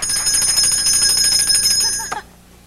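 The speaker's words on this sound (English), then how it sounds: "Ring the bell and see what happens." A bell on a TV show rings steadily and loudly for about two seconds with bright sustained tones, then cuts off abruptly into near silence.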